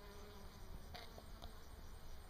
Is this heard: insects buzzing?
yes